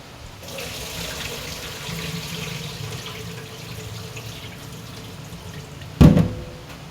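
Water runs steadily from a faucet into a sink while rinsing rice, a close continuous splashing with a brief louder burst near the end; no voices.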